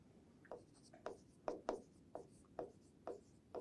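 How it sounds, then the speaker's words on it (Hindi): Pen or chalk strokes from a teacher writing notes during a psychology lesson, heard as a series of short, scratchy strokes in an uneven rhythm, quiet and close, with no speech. "मैं ये आप लोगों के लिए लिख देता हूं।"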